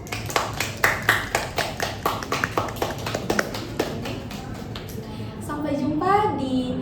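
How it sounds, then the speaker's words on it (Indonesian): A few people clap in a distinct, regular rhythm for two guest speakers on an accounting talk show, fairly close and sparse, then the claps fade into voices talking. "Kita beri tepuk tangan dulu kepada mereka."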